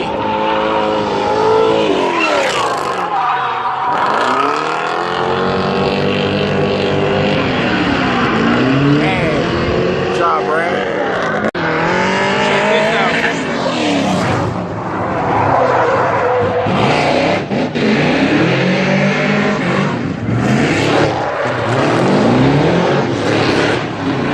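A 600 hp LS-swapped Nissan 240 drift car driven by a pro drifter, its engine roaring loud and close throughout with repeated rising and falling revs and tire squeal, heard from inside the car during a ride-along.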